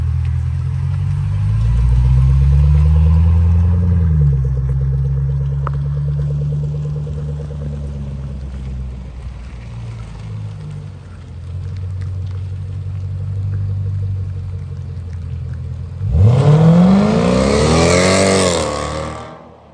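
A Range Rover 5.0 V8 supercharged engine with 575 hp, loud and close, rumbles and revs in a deep, steady drone, then ends with a sharp rising rev surge.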